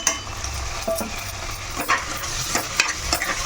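A spoon stirs a prawn and potato curry with chilli powder, turmeric and salt in a pan, giving steady scraping and sizzling at close range with a few sharper clinks of utensil on metal, no talking.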